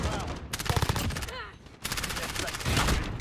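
Gunfire from a Call of Duty Modern Warfare match, including shotgun blasts, comes as dense bursts of shots in two clusters with a brief lull between them, loud and close throughout.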